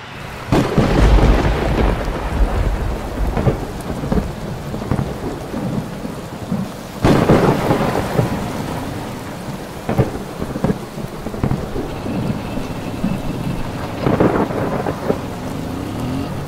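Steady heavy rain pours down throughout, with rumbling thunder rolling in at several points, loud and close.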